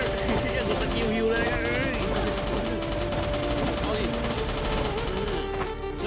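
Rapid automatic gunfire rattles on and on in the survival game Last Day On Earth, mixed with loud game music and effects, while voices talk over the action.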